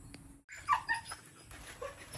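A dog whimpers and yips softly a few times, close by, in a quiet setting.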